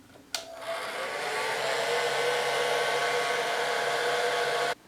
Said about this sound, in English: I'm going to use the hair dryer to speed up the drying of the liquid latex.